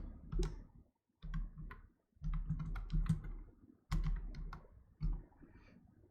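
Bursts of typing on a computer keyboard while a word phrase is entered in a design app, close and clear, several quick runs of clicking keystrokes separated by short pauses.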